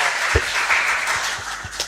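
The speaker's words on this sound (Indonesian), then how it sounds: "Tepuk tangan untuk kita punya pembicara semua ini." An audience at a talk on Papuan anthropology applauds the speakers with a short, fairly close round of clapping, individual claps standing out over a steady wash of hands.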